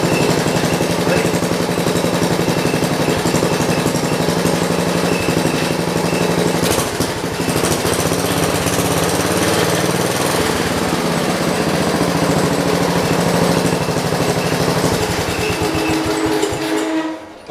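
A John Deere 112 round fender lawn tractor engine runs loud and steady right up close after a governor adjustment, with a rough throbbing drone that surges slightly midway and then cuts off at the end.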